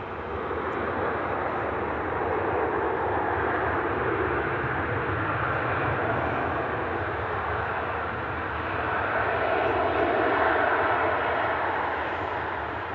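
A Transavia jet airliner in retro livery arrives at Manchester Airport, its engines producing a broad, steady roar that swells gently as it passes and holds loud throughout, with no talking.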